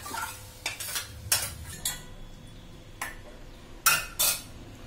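Spoon scraping and clinking against pots as caramelized onion, cooked the one-pot way for a paleo diet, is scooped into another vessel, several sharp metallic scrapes and knocks in irregular bursts, close by, with no talk.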